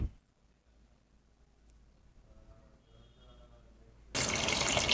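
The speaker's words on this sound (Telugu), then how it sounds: "కొన్ని వాటర్ పోసుకోవాలి" Water poured into a pot of Telangana-style sambar, a mashed dal mixture, in a home kitchen: a few quiet seconds of faint room tone and small clinks, then a sudden, loud, steady splashing rush for the last second, with no voices.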